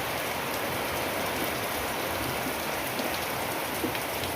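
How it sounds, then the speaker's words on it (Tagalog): Steady rain falls on a yard with pigs and chickens, an even hiss of drops on surfaces with no talking and no other sounds. "Bigla lang umuulan."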